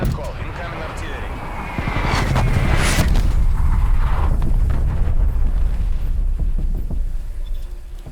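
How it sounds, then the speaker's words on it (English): Incoming artillery strike in the multiplayer shooter Black Ops Cold War on the Moscow map, a sustained loud rumbling barrage with bursts swelling after the first seconds, mixed with game effects and voice callouts. "Incoming artillery."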